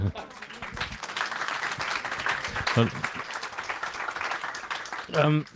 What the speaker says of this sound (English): We need the applause now.